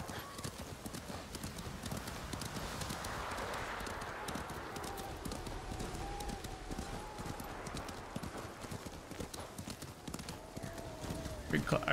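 Horse hooves clip-clop in a steady riding rhythm in the samurai game Ghost of Tsushima, with an occasional whinny and voices talking over the hoofbeats.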